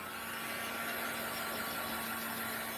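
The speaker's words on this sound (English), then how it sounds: "noise in 3, 2, 1, like a hairdryer" Steady, loud blowing whoosh with a constant whine from a heat tool drying paint swatches on a board, like a hairdryer running continuously without pause.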